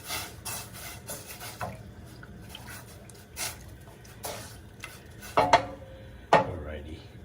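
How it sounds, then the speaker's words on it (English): A spoon clinks and scrapes against a pot while hondashi powder is stirred into broth, scattered metallic taps and a couple of sharper knocks over quiet liquid swishing, close up. "I'm going to give it a quick stir"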